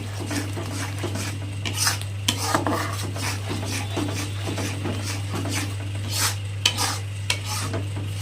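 A utensil stirs white sauce in a pan on low heat while making pasta, giving repeated scraping and clinking against the metal with a faint sizzle. A steady low hum runs underneath throughout.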